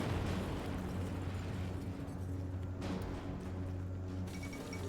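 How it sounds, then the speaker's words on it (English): Atomic bomb explosion over Berlin in the Hearts of Iron IV strategy game, a deep, sustained rumbling boom with a low droning tone, heard alone without talk. "The atomic bombing of Berlin."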